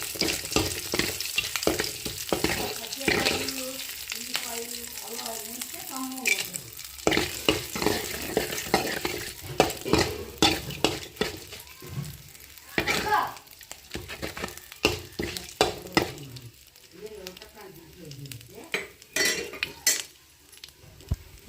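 Garlic, ginger and dried chillies fry in a pan with a light sizzle broken by stirring scrapes and utensil clatter against the pan, close and fairly quiet, and a voice speaks at times.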